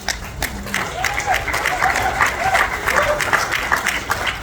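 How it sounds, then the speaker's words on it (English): An audience at a gala keynote breaks into steady applause and crowd noise, a dense wash of clapping that carries on throughout, with a voice briefly rising above it. "Oh, you all not clapping loud enough."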